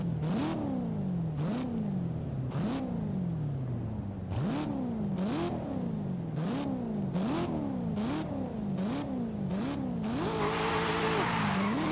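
A stock 2015 front-engine, rear-wheel-drive car in Forza Horizon 5 revs up repeatedly through rising gear shifts, close and loud, then its tires squeal briefly near the end.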